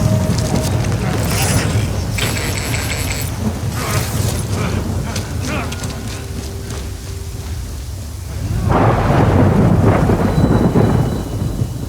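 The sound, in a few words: thunder and rain in the video game Death Stranding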